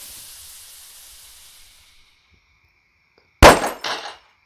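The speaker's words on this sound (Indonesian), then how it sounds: "Waduh, pecah guys piringnya." A small firecracker bursts on a ceramic plate with a sharp crack and a brief clatter of breaking pieces, then a second shorter rattle, all after a quiet stretch with a fading hiss.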